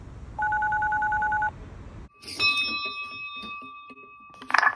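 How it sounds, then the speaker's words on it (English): A custom-made lucky cat (maneki-neko) doorbell in an apartment sounds off with a steady electronic tone, then after a short gap a brighter multi-tone chime rings out close by, ending in a brief rattle. "Did it work? Yes. We get a new doorbell."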